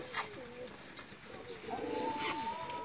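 High-flying pigeons coo softly in the distance, a few low throaty calls over outdoor background noise.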